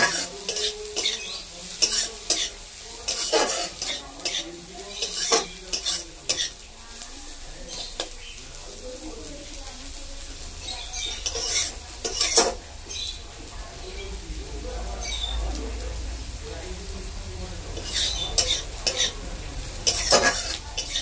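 Bottle gourd peels frying in oil and being stirred in a pan, with recurring scraping strokes of a utensil over a constant sizzle, close and fairly loud.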